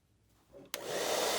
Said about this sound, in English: Using a hairdryer speeds up this process considerably.